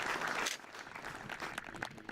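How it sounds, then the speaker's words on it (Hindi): A studio audience on a Hindi farm quiz show claps briefly, a burst of applause that is strongest in the first half second and then thins to scattered claps. "जोरदार तालियां बजा दीजिए"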